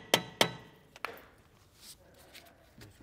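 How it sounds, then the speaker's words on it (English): Hammer blows knock a brake rotor loose on a 1999-2005 Porsche 996 911: two sharp, loud metallic strikes in quick succession, then a third lighter knock, followed by faint clinks and rustling. "Give it a couple hits."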